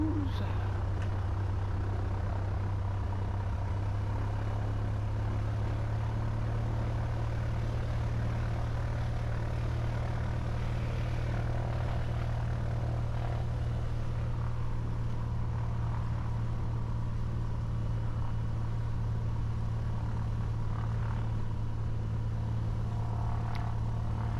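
A radial-engine taildragger propeller plane drones steadily at a distance, a low continuous hum holding for the whole stretch with faint outdoor background.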